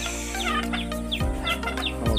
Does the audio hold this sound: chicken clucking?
yes